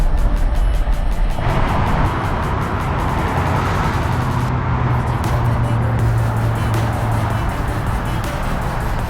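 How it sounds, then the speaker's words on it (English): Steady roar of heavy freeway traffic in downtown Seattle, cars and trucks rumbling continuously with a low engine drone running through, close and loud from start to finish. "As you can see, we always have bad traffic"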